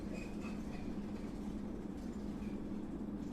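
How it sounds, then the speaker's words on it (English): Steady rumble of a train riding on rails, a continuous low drone with faint rhythmic clatter, heard alone as a background effect in an audio drama. "You're on a train heading out of state to our next show location."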